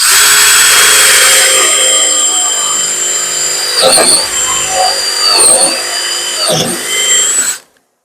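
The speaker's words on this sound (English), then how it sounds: "Get the jig set where you want it at and drill the hole." A power drill whines loudly and steadily, its pitch dipping several times as it bores a hole through wood with a jig, then stops abruptly.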